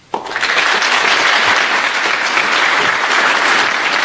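A university capstone invitational audience gives sustained, loud applause for guest professionals, starting abruptly and holding steady as a dense wash of clapping for about four seconds, with no talk over it.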